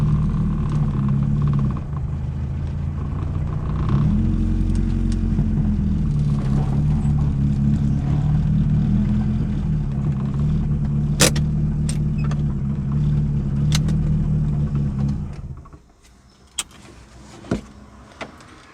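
A car engine rumbles steadily at close range while the vehicle parks at a busy car wash, the idle low and continuous before cutting off near the end, leaving a few faint clicks and knocks.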